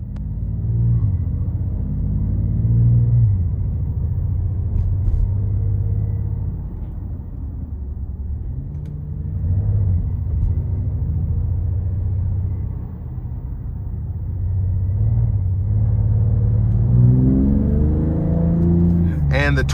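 A 2026 Dodge Charger Scat Pack Plus with a twin-turbo inline-six engine rumbles steadily from inside the cabin during a drive in bad weather, its low drone swelling and easing under a talking voice.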